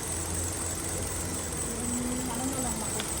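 A 2012 Hyundai Accent's engine runs with a knocking noise and vibration: a constant mid-level mechanical hum with a faint high whine and a brief tonal rise near the end, heard without speech.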